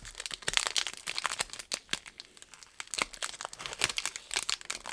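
A sticker is peeled slowly off its backing paper, giving a run of close, crisp crackles and papery crinkles in quick uneven bursts, with no talking.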